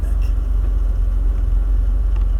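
A 1991 Porsche 964 backs out, its engine a low, steady rumble close by, with no clear revving and no audible talk.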